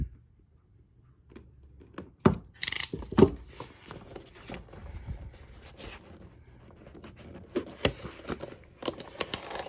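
A Star Wars Black Series Asajj Ventress toy figure is cut free of its packaging, with sharp snips, plastic crinkles and rustling handled close by in an otherwise quiet room.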